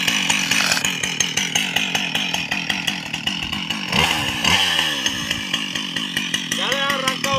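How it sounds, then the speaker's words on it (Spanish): A chainsaw runs steadily and loudly up close while felling a dry holm oak in the countryside, its engine pitch dipping briefly as it bites into the wood, with people talking over it. "suelta la motosierra."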